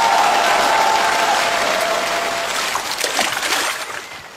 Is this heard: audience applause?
yes